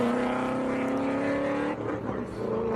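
Race cars launch side by side at an Eliminator drag racing event, a steady loud engine roar that holds at high revs and then shifts as they race down the strip.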